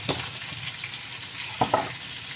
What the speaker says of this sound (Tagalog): At haluin lang po natin.